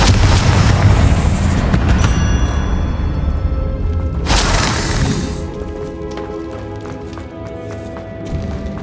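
Bombarda and Confringo spell explosions from the Hogwarts Legacy video game crash and shatter in loud bursts, one dense blast around the middle, amid rumbling combat noise and ringing tones fading out.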